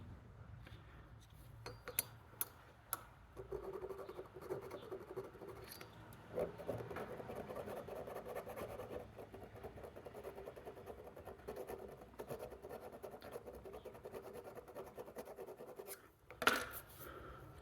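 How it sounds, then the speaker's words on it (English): Steady rasping file strokes working the pinned shield off a GEC slipjoint pocketknife, a continuous close scraping with a few sharp ticks and a brief louder knock near the end. "I'll just file that off and then punch out the shield"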